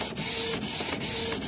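A Canon IP2770 inkjet printer prints a test page, its loud, steady mechanical whir broken by short regular clicks as the print head shuttles back and forth close by.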